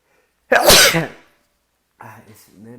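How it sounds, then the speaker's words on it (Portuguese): A single loud, sharp sneeze close to the microphone, followed after a pause by a short stretch of speech. "eu vou espirrar"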